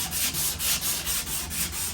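Sandpaper works over dried spackling in steady back-and-forth strokes, a close, rhythmic scratchy rasp repeating about every quarter second with no talking.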